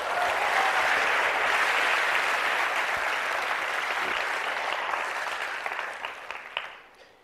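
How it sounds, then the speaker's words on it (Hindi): Audience at a network marketing seminar in India applauds in a dense, steady burst of clapping that holds for several seconds, then tapers off and fades out. "तालियां होनी चाहिए आना के लिए, है ना।"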